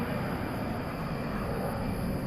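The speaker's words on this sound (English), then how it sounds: "Off to San Antonio goes an American Airlines Airbus A319." An American Airlines Airbus A319 takes off at night from DFW Airport, heard as a faint, steady distant engine roar with a thin high whine, continuous over a couple of seconds with no talking.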